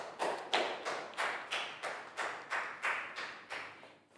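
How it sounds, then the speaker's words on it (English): Students in a classroom clap together in about a dozen regular, evenly spaced claps, moderately quiet and steady in rhythm. "High five and a big round of applause for Dan"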